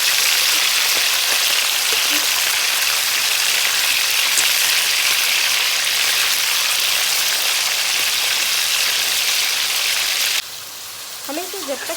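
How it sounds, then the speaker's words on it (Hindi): Boneless chicken cubes frying in oil over a very high flame, a loud, steady sizzle that fills the whole clip and drops suddenly near the end, followed by a few faint clicks. "हमें इसे बहुत हाई फ्लेम पे फ्राई करना है ताकि चिकन अपना पानी ना छोड़े"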